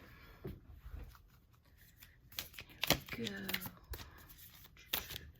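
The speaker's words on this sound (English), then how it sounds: "just going to shuffle the cards quickly" Cards riffle and slap in quick bursts of shuffling, close up, with a brief spoken phrase partway through.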